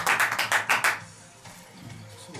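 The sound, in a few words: applause, hands clapping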